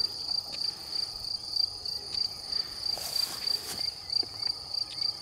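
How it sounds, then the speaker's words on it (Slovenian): A grasshopper chirping outdoors, a high, steady buzzing trill pulsing in a regular rhythm, close and clear for several seconds with faint background rustling. "skače pa je res cela kobilica"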